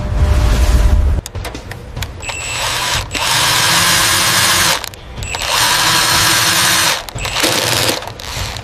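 Submarine clamps engaging during a rescue and repair operation, heard as loud mechanical whirring bursts, several long motor runs separated by short gaps and clicks, close and continuous without speech.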